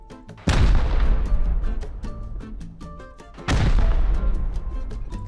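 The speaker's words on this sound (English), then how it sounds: "Let's fire at the wall." Gunfire hits a wall in the Rust video game, with two loud, sharp booming shots a few seconds apart, each followed by a long rumbling decay and scattered lighter impacts.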